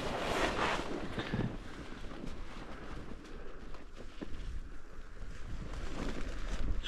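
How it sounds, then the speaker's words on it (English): Mountain wind buffeting a tent while wild camping in the Lake District, a steady loud rumbling roar with gusty swells and low microphone buffeting throughout. "wind has definitely picked up"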